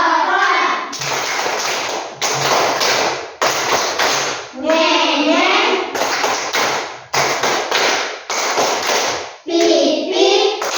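Children in a classroom perform the tepuk motor clapping icebreaker, with bursts of rhythmic tapping and clapping broken by short pauses while young voices chant along, close and lively.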